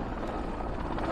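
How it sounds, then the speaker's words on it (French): A helicopter flies over a mountain and carries people up for selfies, heard as a steady whirring drone throughout, moderately loud, with no voices over it. "je pense que c'est un hélico qui amène des gens pour faire un selfie"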